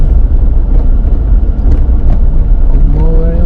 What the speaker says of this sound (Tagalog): Pang-mower yung kanyang makina.